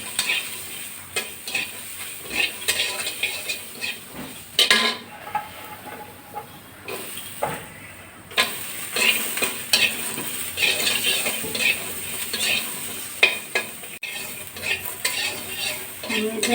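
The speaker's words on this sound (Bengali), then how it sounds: "আমি কিন্তু এখন কোনো তেল ব্যবহার করছি না বন্ধুরা শুকনো কড়াইতে তেলে নিচ্ছি মশলাগুলো" Spices and chillies dry-roasted in an empty wok with no oil, a spatula scraping and stirring in uneven strokes with light clinks and a soft sizzle, close up and without speech.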